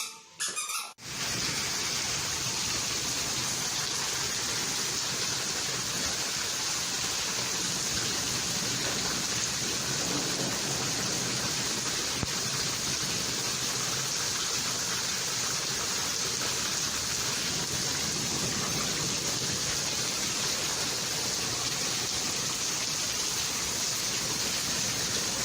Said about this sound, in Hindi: बस इतनी तेज़ बारिश मैंने अपनी गर्मी में नहीं देखी